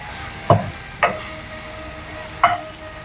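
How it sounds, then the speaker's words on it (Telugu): Dried red chillies frying in a pan for a dosa chutney, a steady close sizzle with three brief clinks of stirring spaced through it. "ఇది ఫ్రై అయిందేమో చూద్దాం ఒకసారి. బా మస్తు ఫ్రై అవుతుంది కదా, ఫుల్ పొగలు వస్తుంది."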